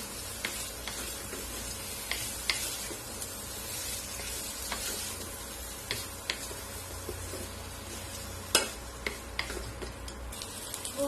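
Boiled raw banana stir-fried with coconut and garlic in a pan, a continuous close sizzle broken by scattered scraping and tapping strokes of stirring, with no talking.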